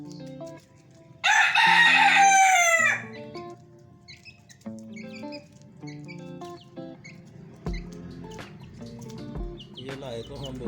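A rooster crows once loudly and close by, followed by scattered soft clucking and pecking from hens in a yard.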